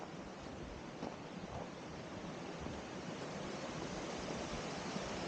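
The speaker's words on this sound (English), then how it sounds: "So this is also the Elk Tongue River that you can hear" The Elk Tongue River in Yellowstone's Slough Creek area flows with a faint, continuous broadband rush of moving water, heard at a distance with no talking.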